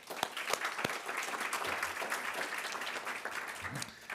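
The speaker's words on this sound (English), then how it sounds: "So have a round of applause for Mrs. Wong." Applause from an audience at a school district board meeting honors an orchestra director, a steady crowd clapping that fills the room for about four seconds with a few sharp individual claps near the start.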